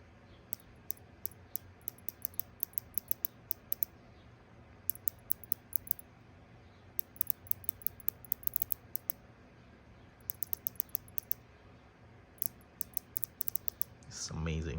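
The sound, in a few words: clicking of Rolex Submariner unidirectional bezel being turned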